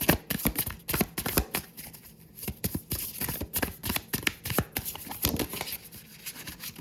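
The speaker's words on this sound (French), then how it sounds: "je vais rebattre les cartes." Tarot cards being shuffled by hand: a steady run of quick papery riffles and flicks, close and fairly quiet, with no talking over it.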